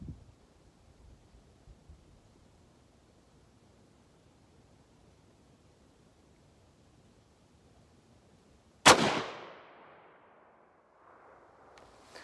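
A Glenfield Model 30 rifle fires once at a shooting range, a single sharp, loud report followed by a decaying echo, after a long stretch of quiet background hiss.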